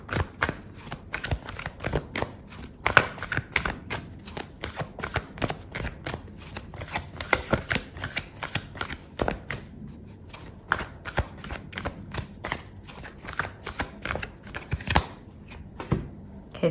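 Oracle cards riffled and shuffled by hand for a tarot reading: a rapid, steady run of crisp flicking and slapping card noises, close and fairly soft, continuing throughout without talk.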